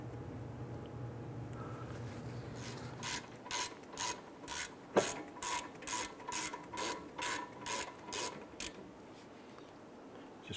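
A ratchet snugs down brake caliper bolts on a 2005-2010 Chrysler 300, starting with a low rumble and a sharp clank before settling into a run of even, close clicking bursts with short pauses.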